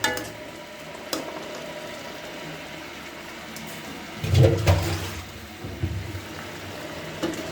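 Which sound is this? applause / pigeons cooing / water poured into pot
water poured into pot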